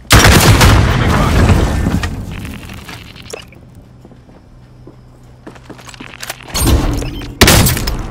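Gunfire in the Call of Duty: Modern Warfare video game, loud bursts of rapid shots opening the clip, then a quieter lull with scattered thuds and footsteps before more sharp bursts near the end.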